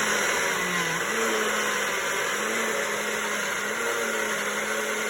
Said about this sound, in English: It's a bar blender, so gotta be kind of careful while I blend this.